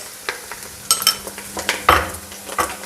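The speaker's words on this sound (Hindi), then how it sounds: "अब इसमें हम लहसुन अदरक का पेस्ट 1 चम्मच डालेंगे" Garlic ginger paste fries with bitter gourd peels in a pan, giving a soft sizzle under repeated clinks and scrapes of a spoon stirring against the metal, close and uneven.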